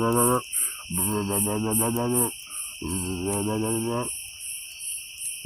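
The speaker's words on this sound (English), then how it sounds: "I just hear crickets." Crickets chirp at night at a campsite, a steady pulsing trill that goes on throughout under a man's low, drawn-out vocal sounds.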